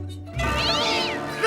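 A cartoon cat lets out a single drawn-out, rising-and-falling meow, loud and close, with no talking over it.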